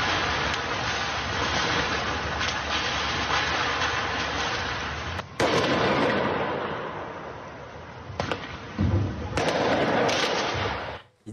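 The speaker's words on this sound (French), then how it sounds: "Regardez bien ces images, ces tirs de mortier." Firework mortars are fired at a school, giving dense, rumbling bursts of cracks and booms with a few sharp distinct blasts, loud and continuous, then fading out at the end.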